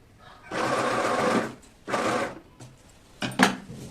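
A sewing machine stitches a lehenga in two bursts of steady, fast mechanical whirring, each about a second long. Brief knocks and handling sounds follow, with faint background noise between.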